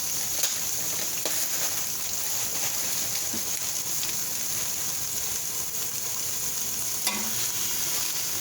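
Frozen celery hits a hot pan of roasting vegetables for a bean, tomato and herb soup, setting off a steady, close, even sizzle with occasional stirring scrapes and clinks throughout.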